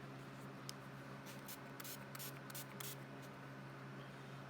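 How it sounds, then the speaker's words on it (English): A small spray bottle of dark blue paint thinned with water mists over a stencil in quick hissing bursts, several short sprays clustered together, close and soft over a low steady hum. "that little magical spray bottle I showed you earlier from Target"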